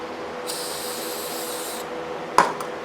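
Aerosol lubricant sprayed onto a snowmobile's rear suspension bushings, one steady hiss of about a second and a half, close up, followed by a brief clunk.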